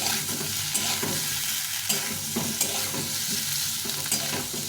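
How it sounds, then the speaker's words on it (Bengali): Broken potato pieces fry in hot oil with a steady close sizzle, broken by repeated scraping stir strokes from a spatula in the pan; no talking. "এখন আলুটাকে একটু ভেজে তুলে নেব।"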